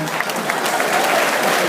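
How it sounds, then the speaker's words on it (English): A crowd of young people gives a round of applause at a gathering addressed by a senator in Nasarawa, a thick, steady roar of many clapping hands. "So please, can we give Senator Abla a more round of applause?"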